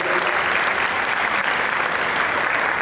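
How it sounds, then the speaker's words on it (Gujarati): A seminar audience at Karnavati University bursts into loud, steady applause for a woman guest, sustained evenly throughout with no pauses. "મેડમ માટે જોરદાર તાળી થઈ જાય."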